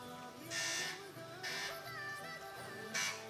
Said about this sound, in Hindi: ठीक है, बजर चेक कर लें।